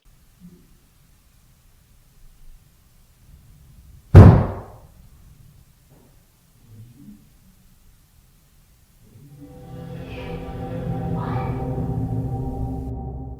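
A single loud bang behind a balcony door at night, one sharp hit with a short decay, followed later by a sustained noisy rumble.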